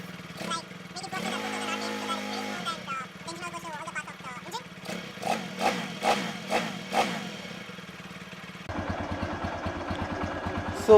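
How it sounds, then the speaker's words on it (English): A TVS Apache RTR 160/180 motorcycle engine is started and idles, then takes a series of sharp throttle blips that rise and fall, before settling into a steady, throbbing idle up close. "let's start the bike. Now just leave it in an idling position and give few revs."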